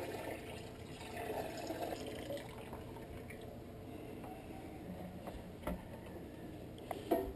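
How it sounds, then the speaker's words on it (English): Hot wort pours steadily into a boil kettle during home brewing, a soft continuous splashing trickle heard close and quiet, with a couple of faint knocks near the end. "now we'll pour the remaining wort into the boil kettle"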